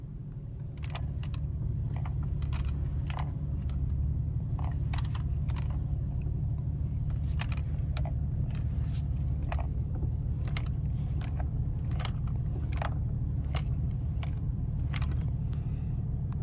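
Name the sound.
rattle around the steering wheel of a Porsche 997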